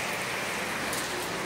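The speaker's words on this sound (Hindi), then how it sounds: "बहुत जोरदार बारिश हो रहा है" Heavy rain in Bangalore, a steady dense hiss of downpour filling the whole moment, close and loud with no talking.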